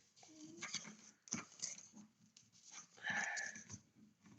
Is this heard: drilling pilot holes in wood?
no